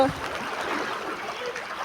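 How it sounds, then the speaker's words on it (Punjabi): Rainwater rushing through a flooded village lane gives a soft, continuous wash of flowing water, fairly faint and steady throughout. "ਆਹ ਦੇਖੋ ਮੇਰੇ ਵੀਰੋ ਪਾਣੀ ਕਿਵੇਂ ਆਉਂਦਾ ਵਾ ਫੁੱਲ"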